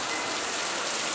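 Steady rain falls in a dense, even hiss with no pauses, moderately faint and with no voices over it.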